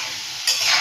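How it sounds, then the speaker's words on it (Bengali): Potatoes hit hot oil in a pan, and a sudden loud sizzle bursts up close after a quiet moment. "এবার আমি আলুগুলোকে ভেজে নেবো, মানে ভাজছি, আলুগুলো ছেড়ে দিয়েছি"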